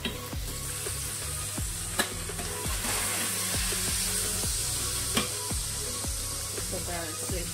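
Food sizzles and fries steadily in a Saladmaster pan, a constant bright hiss with occasional clicks and taps from a utensil.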